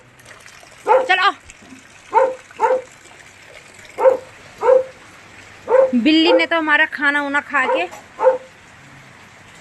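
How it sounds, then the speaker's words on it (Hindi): A dog barks in sharp, repeated bursts during heavy rain in a mountain home, with a soft watery hiss underneath and a person talking over and between the barks. "हमारे कुत्ते को पता नहीं क्या ये आफत आ रखी है"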